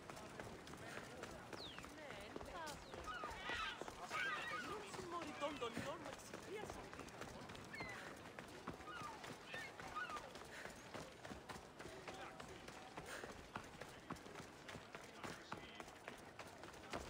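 Quiet, rapid horse hoofbeats in Assassin's Creed Odyssey drum in a steady galloping rhythm throughout, faint and somewhat muffled in the background.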